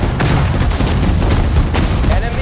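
Dense, loud battle gunfire from the Pacific Guadalcanal campaign of the strategy game Sudden Strike 4, with rapid rattling bursts and heavy booms that pile over each other without a break.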